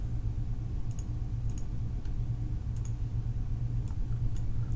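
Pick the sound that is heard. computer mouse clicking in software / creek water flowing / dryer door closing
computer mouse clicking in software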